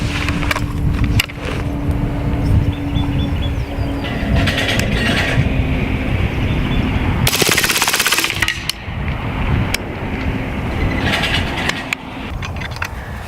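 High-pressure PCP air gun emptying full-auto magazines, a continuous mechanical rattle of rapid shots with louder bursts in the middle and toward the end, heard outdoors.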